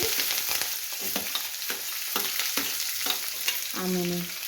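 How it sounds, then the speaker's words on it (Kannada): Sliced onions frying in a pan give a steady close sizzle, broken by repeated scraping stirs of a spoon against the pan and a short tonal clink near the end. "ಉಳ್ಳಾಗಡ್ಡಿ ಚೆಂದಾಗಿ ಹುರ್ಕೋಬೇಕು."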